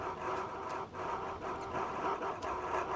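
A dog in the DayZ survival game pants and whimpers in short, rhythmic bursts over a constant ambient hum, close and moderately loud.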